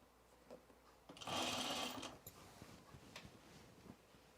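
A sewing machine runs in one short, steady burst of under a second while stitching the crotch seam of Mitchell trousers, close and fairly quiet, followed by soft handling sounds of fabric.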